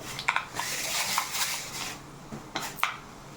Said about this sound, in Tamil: நல்லெண்ணெய் சூடானதுக்கப்புறம் கடுகு சேர்க்கலாம்